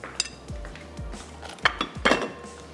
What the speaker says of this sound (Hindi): तो मिक्सिंग बोल में तमाम चीज़ों को कर लेते हैं मिक्स।